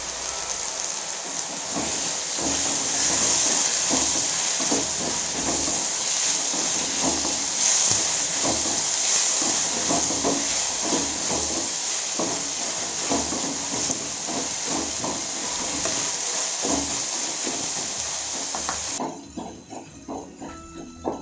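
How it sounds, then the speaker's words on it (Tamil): Tomatoes being sautéed and mashed with onions in a pan, which gives a loud, steady, hissing sizzle with a continuous crackle for about nineteen seconds before it suddenly drops away. "தக்காளி இதுமாரி நசுக்கி நல்லா வதக்குங்க."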